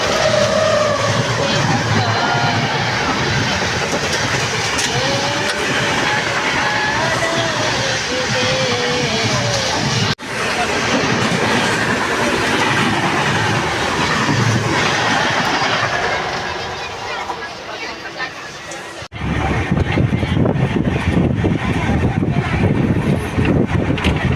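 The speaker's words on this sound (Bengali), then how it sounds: "এদিকে ট্রেন চলে এসছে এখন আমরা ট্রেনে বসে আছি" Train running on rails toward Puri, heard from inside a passenger carriage: a loud continuous rumble with rattling wheel clatter that dips briefly, then surges back, with voices talking over it at times.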